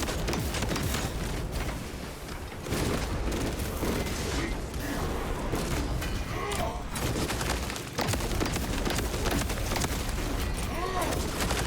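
A full-auto heavy plasma incinerator in a video game fires without a break, a dense and loud roar of shots with only brief dips in intensity.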